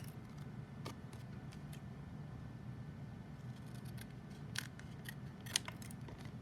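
Scissors trim excess paper from a stamped sun shape in close, quiet snips, several light cuts spread across the stretch over a low background hum.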